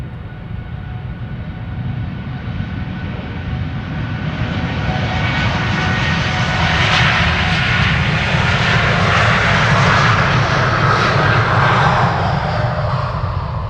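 United Boeing 787 Dreamliner, twelve years old, departing Amsterdam Schiphol for Chicago O'Hare: a close, loud jet roar that swells gradually, peaks with a hissing rush in the middle and stays strong to the end.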